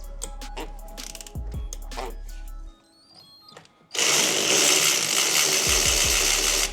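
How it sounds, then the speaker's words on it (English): A power ratchet whirs and clicks on a spark plug of a 2006-2010 Mercedes ML 350 W164, a loud close mechanical drone that cuts off briefly before a harsher, louder burst of ratcheting resumes. "So again, put our ratchet to it."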